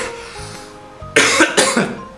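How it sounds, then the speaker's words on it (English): Two sharp coughs close together, loud and near, rising out of a quiet background hum. "I have no idea where that cough came from."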